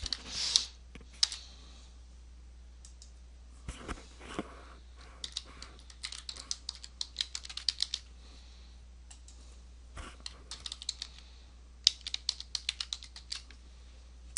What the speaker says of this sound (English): I'm going to type in the titles of my cities.